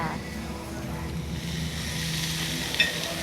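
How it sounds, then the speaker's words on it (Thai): A New York steak served medium on a hot plate at a Thai farm steakhouse, sizzling steadily and softly throughout, with faint background room noise. "นิวยอร์กสเต็กจ้ะ จานร้อนมาเลยจ้ะ"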